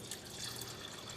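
Water poured into a mixer grinder jar holding rice for palappam batter, a brief, steady, soft trickle and splash heard up close with no voices.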